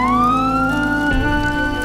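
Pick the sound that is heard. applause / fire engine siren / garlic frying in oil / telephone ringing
fire engine siren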